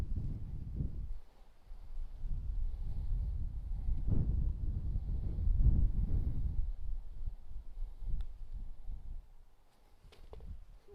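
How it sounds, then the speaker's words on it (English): Low, gusting rumble of wind on an open golf course buffeting the microphone, rising and falling in uneven waves over several seconds, with a few faint ticks near the end. "The wind's still blustering though."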